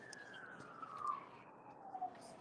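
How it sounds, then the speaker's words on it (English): A single siren wails faintly in the distance, a long tone sliding slowly downward over a few seconds against steady background noise. "Is the sirens going off too loud?"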